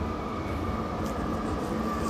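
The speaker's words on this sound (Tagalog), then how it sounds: "nandito na ang tren ng aming sasakyan" A train rumbles steadily nearby with a continuous low roar and a thin metallic hiss, no voices.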